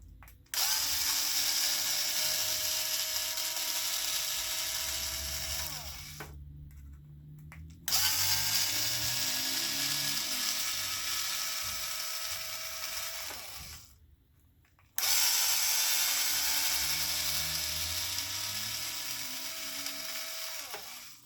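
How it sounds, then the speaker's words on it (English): A power drill spins screws into an Arrma Infraction RC car in three long whirring bursts, high and close, separated by brief silences, each run slowing slightly as the screw tightens. "now with those drills, use extreme caution when you're tightening it"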